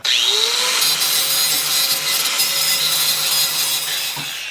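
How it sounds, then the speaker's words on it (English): An angle grinder spins up and grinds a metal bracket flat during an LS swap battery relocation, giving a loud, continuous abrasive whine and hiss for several seconds with slight pitch shifts as it bites. No talking. "I'm going to grind that flat now while it's there and holding on there for me."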